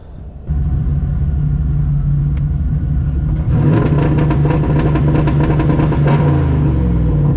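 A car engine idles low, then revs up against a soft-cut rev limiter, popping and stuttering in a rapid, choppy rhythm. Loud and close, no voices.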